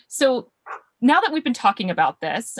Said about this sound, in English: I don't know if you can hear her barking in the background